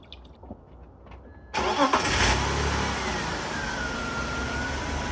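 An engine with nearly 400,000 km on it, freshly treated with an oil and engine flush, starts up and is revved, rising sharply from near quiet into a loud, sustained close-up roar.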